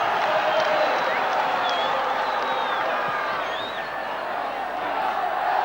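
Massed rugby league supporters at the Boulevard, Hull FC against Australia in 1982, sing and cheer in a broad, sustained roar with occasional whistles and shouts rising above it, dipping briefly before swelling again.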